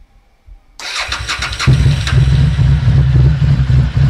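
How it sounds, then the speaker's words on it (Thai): Harley-Davidson Street 750 motorcycle fitted with a one-way clutch kit: after a moment of quiet, the engine fires up abruptly and settles into a loud, steady, throbbing idle close by. "ลองสตาร์ทใหม่"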